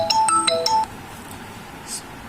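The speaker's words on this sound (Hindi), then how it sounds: "सॉरी फ़ोन आ गया था।" A mobile phone's incoming-call ringtone sounds as a short, loud melody of bright electronic beeps lasting under a second, then cuts off, leaving a quiet room.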